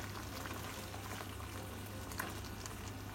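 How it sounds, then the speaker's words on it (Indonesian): Mangut smoked fish sauce with sliced tomatoes and whole chilies simmers in a pan, a steady soft bubbling and faint sizzle that carries on evenly throughout, with no one talking. "Lalu dimasak lagi sebentar sampai nyemak-nyemak atau airnya sedikit agak mau habis gitu ya"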